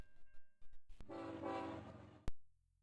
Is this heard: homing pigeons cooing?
no